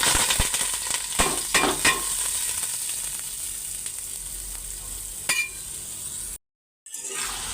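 Drained rice frying in hot oil for pulao: a steady sizzle with stirring scrapes and a few sharp clinks of a utensil against the pot early on, then a brief silence.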